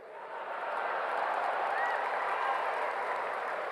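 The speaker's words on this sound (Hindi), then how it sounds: "सिद्धू कहता है ताली ठोको, ताली अपने आप ठोकेगी, देखना।" Steady, distant applause from a crowd, a continuous wash of clapping held at an even level.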